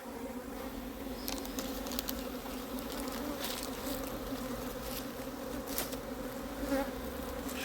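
Honey bees buzz densely and continuously around a beehive being smoked in an apple orchard, a close, steady insect drone with occasional sharper passes near the listener.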